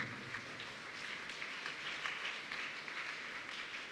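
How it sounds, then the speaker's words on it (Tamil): A church congregation clapping hands during a flag-lowering Mass, a faint but steady wash of applause heard from some distance throughout. "நன்றியும் நாம் கைத்தட்டி தெரிவிப்போம்."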